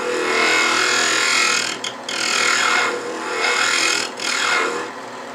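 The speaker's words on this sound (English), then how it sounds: "take your spindle gouge, 1/2 inch, maybe a smaller bowl gouge, and just with the flute pointed, maybe at 10 o'clock, just pull it back and forth" A spindle gouge trues a spinning wooden blank on a lathe, giving a loud, continuous rasping scrape that swells and dips as the tool is drawn back and forth, with brief pauses.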